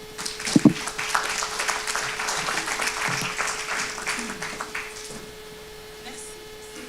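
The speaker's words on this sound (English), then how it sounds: "On peut applaudir encore chaleureusement Monsieur Lassina Koné." An audience at a conference session on African AI ecosystems in Paris applauds speaker Lassina Koné with a moderate wash of clapping that fades after several seconds over a steady electrical hum.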